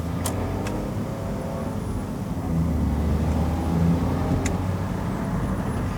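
A Smart Fortwo Cabriolet drives with its gearbox in manual mode, a steady engine and road drone that swells a little partway through as the car pulls harder. Nobody talks.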